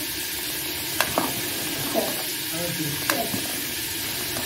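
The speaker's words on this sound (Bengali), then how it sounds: "সর্ষে ফোড়ন দিলাম।" Mustard seeds crackle in hot oil while tempering a mango and tamarind dal: a steady soft sizzle with a few sharp pops and light stirring scrapes, fairly quiet, with no talk.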